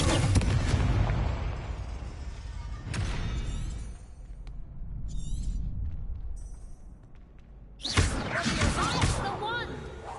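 Blasts of the Confringo explosion spell in Hogwarts Legacy, heavy booming bursts at the start and near the end with rumbling in between, mixed with spell effects and game sounds.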